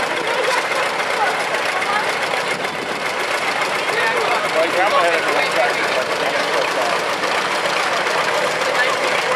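A 1940 John Deere Model H tractor passes in a small-town parade, its engine a steady mid-pitched chugging blended into dense outdoor crowd and street noise, with a voice talking over it.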